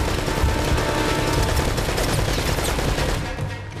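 Dense, continuous automatic gunfire from a machine gun in Uncharted: Drake's Fortune, loud and sustained with overlapping rapid shots and explosive rumble, tapering slightly at the end.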